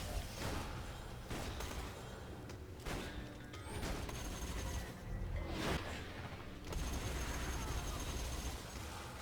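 Borderlands 2 guns firing in a steady, dense stream, with a few sharper bursts and whooshes standing out over constant loud game noise.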